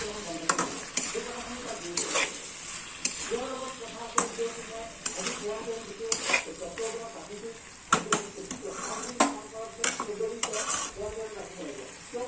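Meat cooking in a pan with a little hot water added, giving a steady close sizzle with repeated scraping and stirring clinks from a spoon against the pan, alongside faint voice-like sounds.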